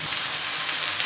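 Water poured into a pan of frying onion, garlic and ginger gives a loud, continuous sizzling hiss close by, with no talk.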